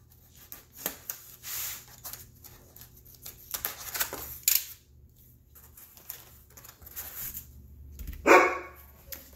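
A pet dog named Luna barks and whines indoors in a few scattered, fairly close bursts separated by quiet gaps, with a louder sharp yelp near the end.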